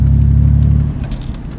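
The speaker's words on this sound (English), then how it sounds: "Oh man, it's a Volkswagen Bug" A Volkswagen Bug with a roof rack rolls past on a mountain road, its low engine rumble loud and close at first, then quickly fading as it moves away.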